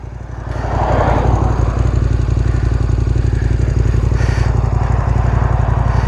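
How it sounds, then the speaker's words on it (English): A KTM 1290 Super Adventure R motorcycle's exhaust runs steadily nearby with a deep, evenly pulsing thrum. It swells slightly after the first second and holds loud and constant, with no talking over it. "Listen to that exhaust over there. That does sound nice."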